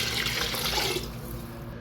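Water pours steadily into a pressure cooker from a jug, a close, continuous rushing splash that holds loud and even before easing slightly at the end.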